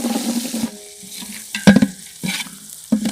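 Oil sizzles and crackles with black pepper and cumin frying, stirring scrapes interrupting in a few bursts, close by; no talking.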